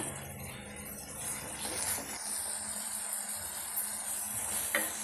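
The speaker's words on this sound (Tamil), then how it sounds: "அதை இதில் முதல்ல சேர்த்து வதக்குறேன். இப்போ மூணுத்தையும் சேர்த்துட்டோம் இல்லையா, நல்லா ஒரு தடவை கிளறி விட்டுக்கோங்க." Ground spice powders, chilli, Kashmiri chilli and turmeric, are sautéed for a crab fry, giving a quiet, even sizzle under a few soft spoon scrapes and one light clink near the end, with no voices.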